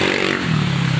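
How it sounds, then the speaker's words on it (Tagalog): Motorcycles pass by on a busy street, one engine droning close and steady with a rising low hum and a faint scraping clatter, in a single brief stretch with no talk. "daming motor"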